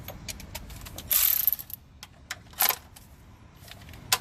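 A ratchet breaks loose a 10 mm thermostat housing bolt on a 1999 Ford Crown Victoria 4.6 V8 during intake manifold work, with two short bursts of clicking over faint, scattered workshop noise and no talk.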